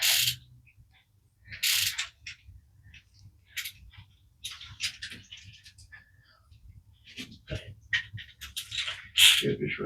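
Short bursts of ratchet clicking come up close as LS3 rocker arm bolts are run down snug in a Crown Vic swap, with pauses between strokes and a low hum beneath.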